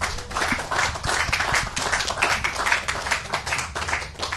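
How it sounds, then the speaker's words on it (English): An audience at a farming technical forum gives a panel a round of applause, with dense steady clapping from a moderate crowd that continues throughout. "Can we all give our panel a round of applause?"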